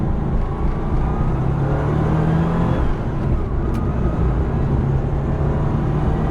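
Porsche 993 GT2 pulling hard under acceleration, a loud, steady engine roar with rising tones that fills the whole stretch, heard from inside or close by with no talking.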